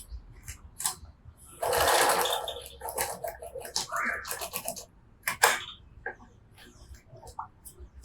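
A sewing machine stitches a seam on a handmade bag, running in a steady close whir for a few seconds, then in shorter bursts mixed with handling clicks and rustles.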